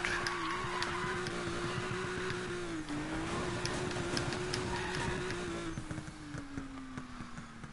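A car drifts in the Need for Speed Payback racing game, its tires squealing over a steady, loud engine drone that holds through the whole stretch and eases off slightly near the end.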